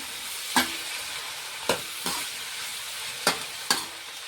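Masala egg rice with cabbage stirred in a pan, a soft frying hiss broken by five distinct scraping strokes of the spatula at uneven intervals, close by with no speech.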